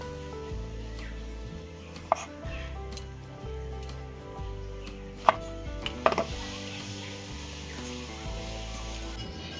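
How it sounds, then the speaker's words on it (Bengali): Ripe tomatoes are cut in half with a knife on a board, giving a few sharp, isolated chops spaced several seconds apart over a low, steady kitchen hum. "এসে এরকম হাফ হাফ করে কেটে নেবো পাকা"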